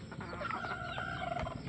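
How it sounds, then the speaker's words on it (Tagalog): Well-fed backyard chickens clucking and murmuring continuously at moderate distance, with a few sharper calls rising out of the low chatter. "Busog ang mga manok ko."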